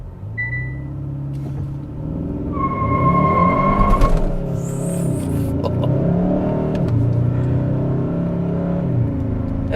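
A 2022 Hyundai Sonata N Line makes a launch control start, the engine held at a steady rev, then surging into hard acceleration through the gears, loud and close from inside the cabin.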